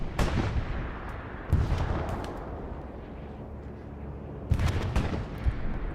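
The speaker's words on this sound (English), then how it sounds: "Bombing run on its way over to the front line" Bombing-run explosions from the Hell Let Loose game on a night Kharkov map, heavy booming blasts at the start, middle and end over a rumbling battlefield, with no talk.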